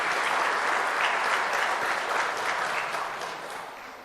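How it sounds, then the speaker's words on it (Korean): A church congregation at a Sunday worship service breaks into full, dense applause, a loud even wash of many hands that stays steady and then begins to fade at the end. "우리 박수로 한번 그분들을 격려해 주시고 또한 축복해 주셨으면 좋겠습니다."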